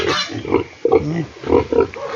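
Deep, repeated grunts from a sow in a pig pen come in short bursts, close by, with a few louder snorts standing out.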